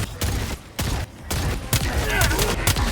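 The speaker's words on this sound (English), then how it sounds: "here's a compilation of heads exploding" Rapid bursts of gunfire and explosive blasts from the video game Helldivers 2, loud dense volleys separated by brief gaps, with no speech.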